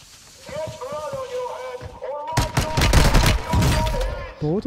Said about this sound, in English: Both of them are shooting me together